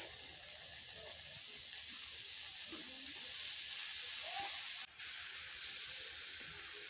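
Onions sizzle in a hot pan while fish is being cooked: a steady, fairly loud frying hiss runs throughout, swelling slightly midway, with one brief dip near the end.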